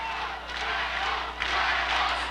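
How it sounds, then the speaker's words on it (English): A boxing crowd at a Blackhawk Walters fight roars and chants in a sustained wall of cheering that dips briefly then surges louder, distant and reverberant. "Listen to the crowd. This place was going crazy."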